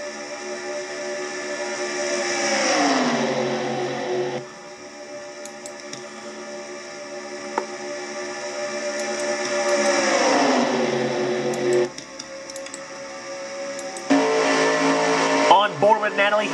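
A race car, car 36 in a Nationwide Series stock car race, running at over 190 mph: engine roar rising and sweeping down as cars pass by, repeated twice, with a commentator talking over it.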